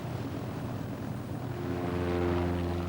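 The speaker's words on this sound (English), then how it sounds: "There goes Terry Hiscock in his civilian Pup as he goes dipping over that hedge" A Beagle Pup light propeller plane flies low past at an airshow, its steady engine drone thickening into a rising harmonic buzz as it draws nearer, continuous and fairly loud, with no voices.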